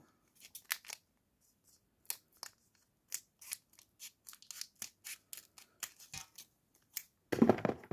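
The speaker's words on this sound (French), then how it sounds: "on va utiliser un ciseau parce que je n'arrive pas à l'ouvrir" Scissors snip open a Pokémon booster pack in a quiet room: a string of sharp, separate close-up cuts, ending with a short rustle of foil being torn apart.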